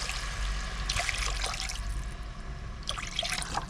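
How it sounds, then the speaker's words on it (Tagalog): Water poured into a cooking pan with seasoned vegetables, an uneven trickling and splashing stream that surges twice, moderately close. "Lagyan natin ng tubig."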